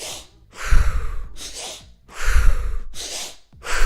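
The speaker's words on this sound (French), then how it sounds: "vous prenez 2 inspirations rapides par le nez, vraiment comme si vous reniflez, fort, et vous expirez par la bouche" Two rounds of breathing exercise, each with two quick, forceful sniffing inhalations through the nose followed by a longer breath pushed out through the mouth, close and clear with no talking.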